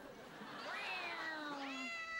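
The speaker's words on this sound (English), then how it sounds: "Teaching a cat to meow." A cat gives two drawn-out, rising-and-falling meows, close and clear over a quiet background.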